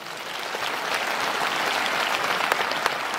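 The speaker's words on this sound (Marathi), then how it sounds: "आता हात वर करून जोरात टाळ्या वाजवूया." Audience applause at a school event in honour of a football world-record holder, a steady dense clapping crowd sustained loudly throughout with no talk over it.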